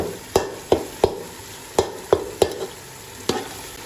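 Dry coriander paste being stirred into frying masala for chicken with pumpkin (lauki): about eight sharp, close spoon scrapes and knocks against the pan at an uneven pace over a low sizzle, with no talking.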